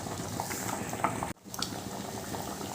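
Lentil dal with green chillies and a pinch of sugar bubbles in a pot, a soft, close, continuous simmer with small pops and one brief clink partway through.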